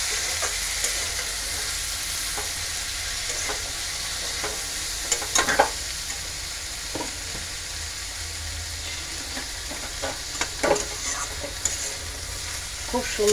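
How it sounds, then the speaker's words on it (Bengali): Chopped okra fries in a pan with white sesame seeds and tomato, a constant close sizzle with occasional louder spatters and the clink and scrape of stirring, and no voices. "এই যে ভেন্ডিটা ঢেলে দিলাম, ধোয়া ভেন্ডি কেটে ভেন্ডি দিলাম"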